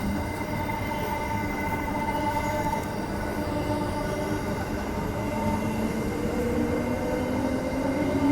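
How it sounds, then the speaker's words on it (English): A suburban Transperth train and a freight train rumble past nearby on a bridge with a steady, heavy roar, wheels grinding and faint squeals rising over the continuous rolling noise. "With a suburban line train and a freight train."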